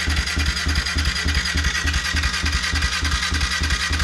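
A cold motorcycle with carburetors cranks over without catching, the starter and engine churning in a rapid, even rhythmic chug that stays steady and fairly loud throughout.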